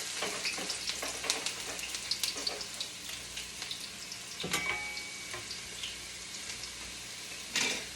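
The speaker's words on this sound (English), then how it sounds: "Now the oil is hot, and I'm going to add in the ginger." Ginger sizzling as it hits hot olive oil in a pan, a steady close crackle with sharp spikes and brief utensil scrapes, swelling again near the end.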